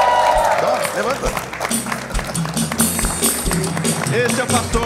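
An audience inside a church breaks into scattered applause, with claps popping irregularly under someone talking over a microphone.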